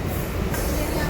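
A train pulling into Howrah station, a brief, loud, dense rumble of rolling wheels and carriage noise heard from onboard, with a faint high squeal.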